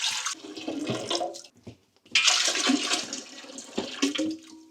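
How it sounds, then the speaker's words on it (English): Water pours in heavy splashing bursts into a container for making bee sugar syrup in a kitchen, loud and close, with a brief pause before the gushing resumes. "we're now going to be adding in the water"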